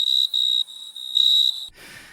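A cricket chirping sound effect plays alone, a steady high-pitched trill in a few pulses lasting under two seconds before cutting off.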